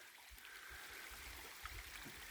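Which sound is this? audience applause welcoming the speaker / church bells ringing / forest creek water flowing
forest creek water flowing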